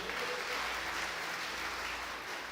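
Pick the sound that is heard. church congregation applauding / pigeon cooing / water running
church congregation applauding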